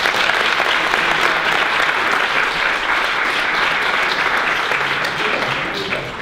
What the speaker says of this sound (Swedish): Så att vi kan väl ge Omar en varm applåd.